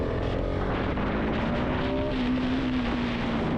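A KTM 690 SMC-R single-cylinder supermoto pulls hard on the throttle in second gear, its engine a loud, steady drone whose pitch climbs smoothly across the stretch, with wind rush underneath.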